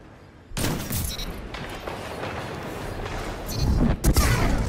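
Close-range firefight in a Destiny 2 Trials of Osiris match, with a dense wash of overlapping gunfire and impacts, then several heavier sharp shots near the end.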